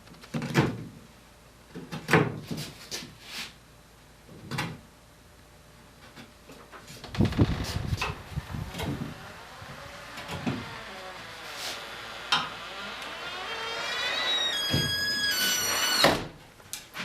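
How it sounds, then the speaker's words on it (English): A door blown shut by the wind in a woodworking shop, heard as a loud slam among scattered knocks and clatter, followed by rattling and a brief high squeak near the end, with no one speaking. "The wind shutting my door."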